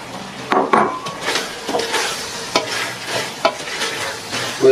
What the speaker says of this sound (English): So our meat and the onion mix here in the pot, in the oil, fried well.